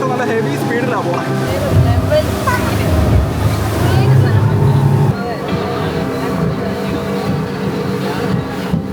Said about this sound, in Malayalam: ബോട്ട് നല്ല ഹെവി സ്പീഡിലാണ് പോകണം.